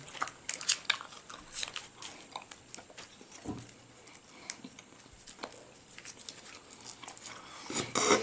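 Bubblegum being chewed close to the mouth gives wet, smacking, crunchy bites in an irregular rhythm, with occasional louder snaps and no talking.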